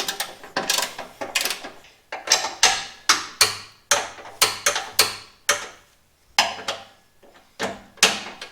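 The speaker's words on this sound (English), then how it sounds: "I got my torque wrench here set to 21 foot-pounds of torque." Torque wrench ratcheting as it tightens skid plate bolts on a Toyota 4Runner, a series of sharp, close clicking bursts in an irregular rhythm with short pauses between strokes; no talking.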